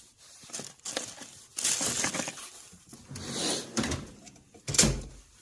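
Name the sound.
Snap-on toolbox drawer opening or closing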